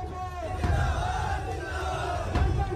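A large crowd at an election rally in Uttar Pradesh roars with chanting and cheering in a dense, continuous din. A sustained group chant carries over a rumbling mass of voices at loud, steady volume.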